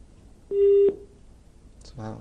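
Telephone line tones after a dropped call on a call-in broadcast: a single loud steady tone about half a second long, then quiet, before a voice begins.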